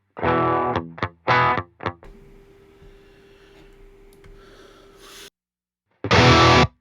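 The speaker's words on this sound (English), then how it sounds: "so this is Bogren's Rev C, right? So let's just see what this sounds like." Electric guitar played through the Bogren Rev C amp simulator plugin: short, chunky distorted chords with palm-muted stabs, a sustained ringing note, then another loud burst, all close and heavily driven.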